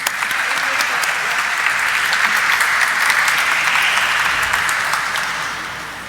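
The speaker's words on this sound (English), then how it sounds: "So let's have a huge round of applause," An audience at a stock exchange listing ceremony for Sula Vineyards breaks into sustained, dense applause, loud and even throughout before tapering off at the end.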